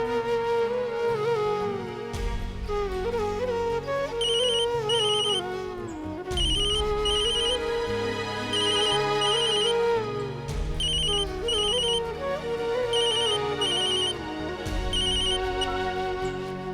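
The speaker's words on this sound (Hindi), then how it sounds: "स्नेहा जी, मैंने आपको फोन किया था।" A mobile phone ringtone plays as a repeating melodic tune with short high chirping accents, loud and continuous throughout, with no talk over it.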